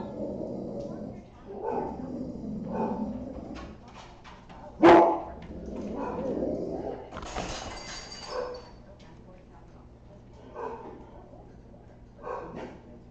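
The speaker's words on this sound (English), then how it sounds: "Is she growling at Snoopy or something?" A puppy from a litter barks, yips and whimpers in short scattered bursts, with one sharp loud bark standing out, while people talk nearby.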